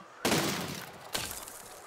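Cannons in the video game Besiege firing twice, two sharp blasts about a second apart, each decaying with a rough rumbling tail, the second slightly weaker than the first.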